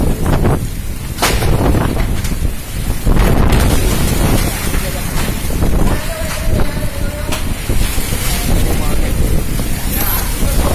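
Strong whirlwind winds tear through Banda Aceh, a loud, continuous roaring rush with heavy buffeting and gusty thumps on the microphone, and faint voices underneath.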